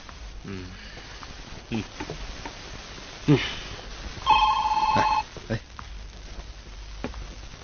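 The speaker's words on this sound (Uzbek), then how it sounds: "Xo'jayin, sizga telefon" A telephone in an indoor scene of an Uyghur-language feature film rings in one electronic trill lasting about a second, loud and near. Quieter rustles and brief noises come before and after.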